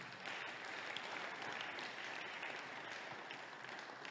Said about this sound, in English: Shall we clap for him again?